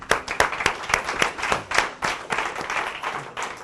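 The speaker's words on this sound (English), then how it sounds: "Give me a round of applause." A presentation audience claps, a fairly close burst of individual hand claps with a quick uneven rhythm lasting a few seconds, no voices over it.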